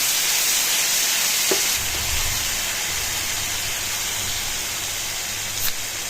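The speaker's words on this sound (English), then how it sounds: "add a couple tablespoons of the jerk marinade and let it saute" Jerk marinade sautés in a pan while jerk salmon is being cooked, giving a steady, moderately loud hiss and sizzle that runs unbroken from start to finish with no voices.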